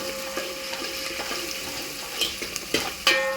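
Chopped onion fries in hot oil while a spoon stirs it, so a continuous sizzle carries scattered scraping clicks that grow sharper and louder toward the end.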